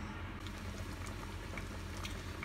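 Chicken adobo boils in a pot on a stove, a faint steady bubbling and patter with scattered tiny pops, continuous and close, with no voices.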